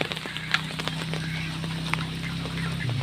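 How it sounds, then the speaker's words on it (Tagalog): Faint duck-like quacks and calls scattered over a steady low hum, with a few sharper clucks and squawks rising now and then, from a backyard flock of large ducks, native ducks and turkeys. "Ay, yung pato nila, pato yan. Laki ng pato."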